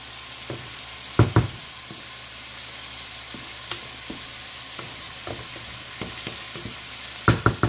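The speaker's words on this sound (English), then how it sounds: "Now, I'm going to give it a good stir" Chicken liver with turmeric sizzles softly in a frying pan while a utensil stirs it, giving sparse scrapes and knocks against the pan, close and unaccompanied by talk.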